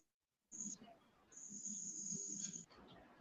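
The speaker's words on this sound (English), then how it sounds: "We can hear the crickets in the background." Crickets trilling in a steady high-pitched buzz behind a quiet phone or video call line, one short chirp then a longer sustained trill, with faint low voices murmuring underneath.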